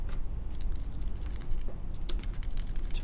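Typing on a computer keyboard while writing in a LaTeX editor, a steady run of close, crisp key clicks with a low background hum and no voices.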